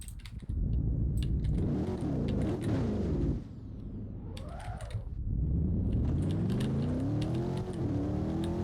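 A car engine in a Roblox driving game revs hard in first gear, climbing steadily in pitch, dropping briefly around a shift-like dip, then rising again, loud and continuous with faint clicking from a keyboard underneath.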